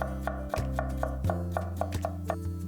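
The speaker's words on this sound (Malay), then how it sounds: "potong kasar je 1 biji bawang besar ni dan 1 inci halia" A knife roughly chopping a large onion and a piece of ginger on a cutting board, giving a steady run of crisp, close taps over a continuous musical background.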